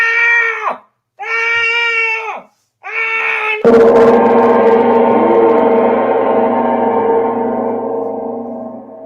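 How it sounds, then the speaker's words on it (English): A woman screams loudly in three drawn-out, strained cries, each cut by a short pause, then a longer scream that rings out and slowly fades. "She was yelling, help, help."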